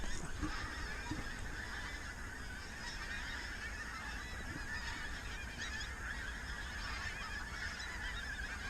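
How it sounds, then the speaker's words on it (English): A large flock of geese, including pink-footed and white-fronted geese, honks continuously in the distance on a frosty morning, a dense, overlapping chorus of calls. "A lot of geese to spot a white front."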